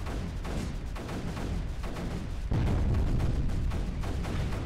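Repeated mortar thumps and pulse cannon fire from the strategy game Creeper World 3 pound steadily under a constant rumbling wash of battle noise, fairly faint and evenly paced with no voices.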